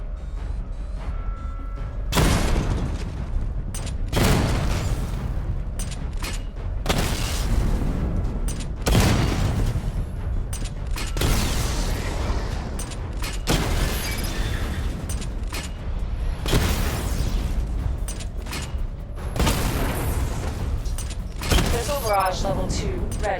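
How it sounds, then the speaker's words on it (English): Repeated heavy missile barrage blasts from the Batman Arkham Knight video game, about eight loud booming bursts at roughly two-second intervals, each with a rumbling tail, over a constant game noise bed. "Charge the missile barrage to level 2 to destroy up to 4 targets at once"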